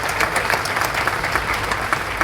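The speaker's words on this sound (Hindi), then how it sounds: "so round of applause for that" Audience clapping steadily and densely at a business conference in a hall, a continuous wash of applause with no breaks.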